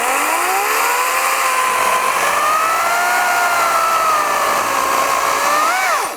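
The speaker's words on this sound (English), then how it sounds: "when I get into the wood, the Wild Badger chain speed or the torque kicks in instead of it bogging" A Wild Badger 40-volt battery chainsaw cuts into wood, giving a loud, continuous high whine that shifts slightly in pitch under load, holding steady close by before rising at the very end.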